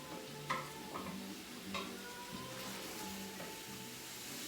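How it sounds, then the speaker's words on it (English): Beef and mushrooms sauté in a pan with a low, steady sizzle and a few soft stirring clinks and scrapes, fairly quiet and close, with no talking. "sauteing our beef and mushrooms"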